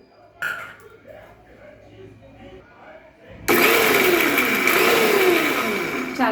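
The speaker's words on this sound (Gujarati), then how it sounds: "હવે એના ફોતરા ઉડાડી અને આપણે મિક્સરમાં એનો ભૂકો કરી લઈશું" After a few seconds of quiet kitchen handling, a mixer grinder starts abruptly on roasted, skinned peanuts, a loud, close motor whine that holds steady while the tone shifts as the nuts break down.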